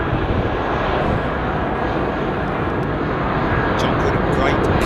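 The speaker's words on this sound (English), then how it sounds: "a great climb, 777-200" A Boeing 777-200 climbs out after takeoff near Heathrow, giving a steady, loud broadband jet roar that holds throughout, with faint background voices from a rooftop terrace.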